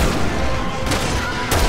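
Gunfire crackles in Resident Evil 6 co-op, two sharp rifle shots about half a second apart over dense battle noise, loud and close, with a voice speaking briefly.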